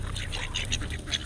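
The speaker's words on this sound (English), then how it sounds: "There's a duck here and a duck there." Several short quacks from a duck close by, coming in quick uneven bursts over a low background rumble.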